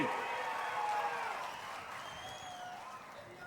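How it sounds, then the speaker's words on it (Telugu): A crowd at a political rally for Amaravati as the sole state capital claps and cheers in a dense, sustained wash of applause that slowly tapers off. "అమరావతి రాజధాని వాళ్ళు గట్టిగా చప్పట్లు కొట్టి మీ హర్షాన్ని, ఆమోదాన్ని తెలియజేయండి."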